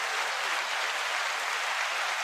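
Steady, dense applause from a crowd fills the space evenly with no pauses, a continuous wash of many hands clapping together.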